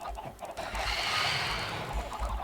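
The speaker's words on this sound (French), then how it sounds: "Putain, entre les poulets eux là" Chickens clucking in Minecraft, several birds making overlapping soft clucks and squawks close by, moderately loud and without talk.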